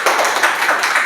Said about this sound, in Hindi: सृष्टि और प्रिंस के लिए ताली बजाइए